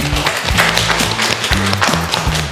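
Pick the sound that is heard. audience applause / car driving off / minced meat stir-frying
audience applause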